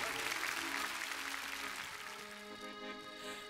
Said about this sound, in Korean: 손바닥에 바스러 지도록 박수 한번 쳐주세요